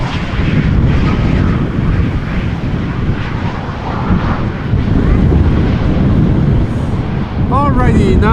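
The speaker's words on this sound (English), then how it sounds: "a couple of more landings, including this one, KLM Flight 1266, Embraer 190" A KLM Embraer 190 airliner lands in gusty crosswind at Amsterdam Schiphol, a loud, sustained engine roar with deep rumble and wind buffeting throughout.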